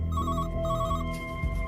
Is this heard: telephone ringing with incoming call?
yes